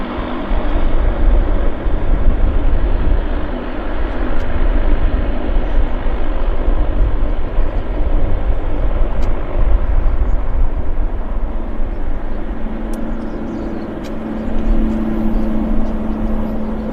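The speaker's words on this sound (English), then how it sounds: "Got another aircraft on approach." A Boeing 737 Max airliner on approach to Vancouver airport, heard as a steady broadband engine roar that holds loud throughout, with a low droning hum rising near the end.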